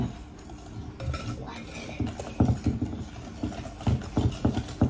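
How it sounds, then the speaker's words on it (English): A whisk beats cake batter in a bowl, giving rhythmic metallic clinks and taps that quicken and grow louder toward the end, close and with no talk. "Whisk. No more over mixing."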